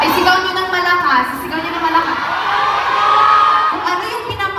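A live audience at a Filipino music performance shouts and cheers loudly together, a dense wash of many voices yelling at once that holds steady throughout with no pauses.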